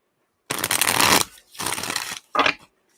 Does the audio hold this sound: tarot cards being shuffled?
yes